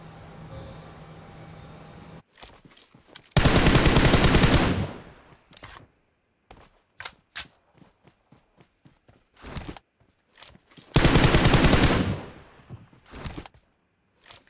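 Bursts of gunfire in PUBG Mobile, loud sustained volleys around an M24 rifle fight, separated by sharp isolated shots and footstep-like taps, with no talk.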